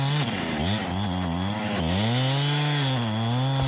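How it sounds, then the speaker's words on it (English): Chainsaw with a skip tooth chain bore cutting into a dead ash tree, a loud close engine holding a high buzzing pitch that dips and rises as the saw bogs and jumps in the wood. "here's where you're gonna hear and see my saw jump around a little bit"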